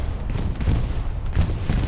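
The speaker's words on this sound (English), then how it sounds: "Look at the explosion." Muffled explosions rumble through a Hell Let Loose battlefield during a competitive match, with a low boom near the middle and another toward the end, all over a steady bed of low wartime din.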